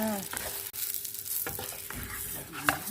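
Beaten eggs for a Thai omelette sizzle and crackle in hot oil in a pan, a steady frying hiss punctuated by sharper pops and stirring clinks.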